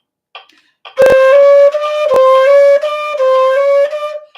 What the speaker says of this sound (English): sometimes I will just underblow the note and it makes a weird sound.